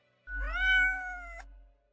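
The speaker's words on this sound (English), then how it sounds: "The cat replies absent-mindedly." A cat gives a single drawn-out meow, close and clear against a quiet background, with no talking.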